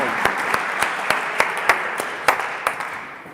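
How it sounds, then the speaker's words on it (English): Sparse clapping from a small group at a gala final, with a few sharp, distinct claps standing out at a roughly regular pace over a soft background. "Warm welcome and round of applause for Marta and for the KV."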